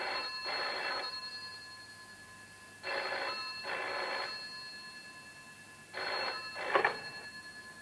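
A telephone rings three times in double bursts, each pair separated by a pause, fairly faint and alone in a quiet room.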